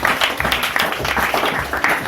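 A church congregation claps and applauds for the Lord, a dense burst of close hand clapping lasting a couple of seconds, with voices mixed in.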